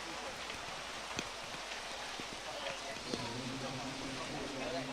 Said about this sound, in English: Yeah, this is some heavy rain.